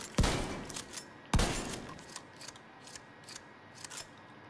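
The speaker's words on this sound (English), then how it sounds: "I'm gonna start off with the shotgun so I can show you how fast it reloads" Two sharp, booming shotgun blasts from The Division 2 fire about a second apart, followed by quieter clicking and clacking reload sounds, with no speech.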